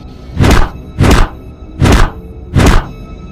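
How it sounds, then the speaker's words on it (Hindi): Four heavy punches land on Mister Meat in an animated game story, each a dull thud at a steady, evenly spaced rhythm, close and loud with brief silences between. "इतना सुन के ग्रैंडपा 2-4 मुक्के मिस्टर मीट को लगा देता है और उसे बेहोश कर देता है।"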